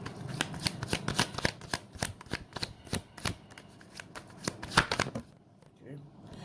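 Tarot cards are shuffled in a rapid series of crisp riffling snaps, close and fairly loud, before a short quieter stretch while a card is drawn.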